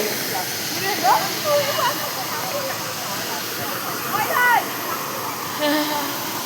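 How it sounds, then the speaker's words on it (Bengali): Water roaring and splashing at Hundru Falls, a dense continuous rushing wash heard up close, with people's voices and calls intermittently over it. "ওরে ভাই এইদিকে জল ছেটকাচ্ছে ভাই"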